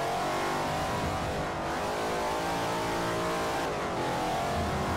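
A racing car's engine in Forza Motorsport 4 roars steadily under hard acceleration, loud and continuous with brief dips in pitch, and no one speaks.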